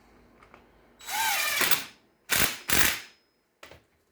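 A ratchet tightening a bolt on an Audi A4 2.0T FSI engine mount, heard as several separate bursts of close mechanical clicking with short pauses between them and no talking.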